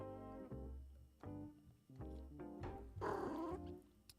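A pet cat purrs and grumbles close to the microphone in a low, rhythmic rumble with a brief throaty rise near the end, quiet overall.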